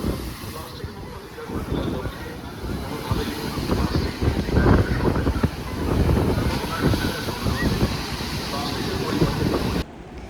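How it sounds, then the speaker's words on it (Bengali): Rough surf crashes and churns continuously, with heavy wind buffeting the microphone throughout; no one speaks over the roar. "আজকে সমুদ্র যেন উত্তাল, এই যে দেখুন সমুদ্রের রূপ ভীষণ, বাপরে আজকে প্রচুর ঢেউ"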